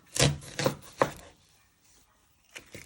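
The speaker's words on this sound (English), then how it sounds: "you first want to chop them just down the middle" A knife chops through an onion on a board, three sharp close strikes about half a second apart, then a quiet pause and two lighter taps near the end.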